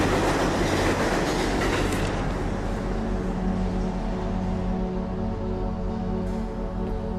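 A train rumbles past in The Plane Effect video game, a loud, steady clattering roar with faint clickety-clack and a humming tone that continues throughout with no talking.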